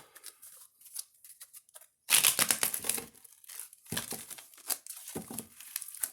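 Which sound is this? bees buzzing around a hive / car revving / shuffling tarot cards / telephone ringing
shuffling tarot cards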